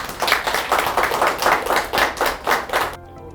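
An audience at a Hyundai Mobis company founding-anniversary CEO meeting claps in a rhythmic, unison pattern of roughly ten even beats, then stops abruptly and leaves a faint tone.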